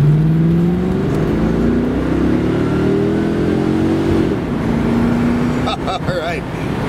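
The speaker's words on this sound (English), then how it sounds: "Now we can do donuts in the Walmart parking lot." A 1994 Corvette C4 convertible spinning donuts in a Walmart parking lot, its engine loud and close, revving up and down in rising and falling sweeps, with brief clatter near the end.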